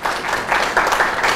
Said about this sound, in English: Can we actually appreciate this for Africa by giving him a clap?